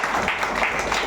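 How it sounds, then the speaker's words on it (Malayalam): Audience clapping at a church prayer gathering: a short, dense burst of steady, close applause filling the whole moment. "എല്ലാവരും നന്നായിട്ടൊന്ന് കൈയടിച്ച്"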